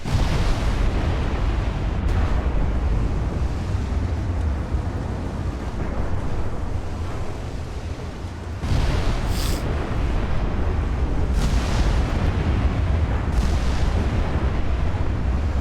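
Heavy naval gunfire from warships with 20-inch guns in the video game Ultimate Admiral Dreadnoughts, a continuous low rumbling barrage punctuated by several sharp booming shots, loud and close with no talk.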